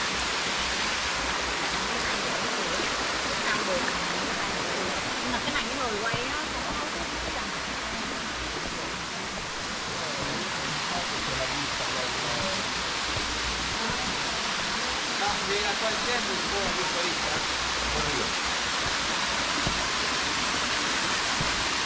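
A waterfall in Bali roars in a steady, dense broadband rush that fills the whole stretch without a break, heard from close by with no voices over it.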